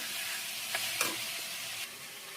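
Mutton being poured into a pan of sizzling, well-fried spiced masala gives a steady broad sizzle with a few soft stirring clacks, close and moderately loud, with no talking.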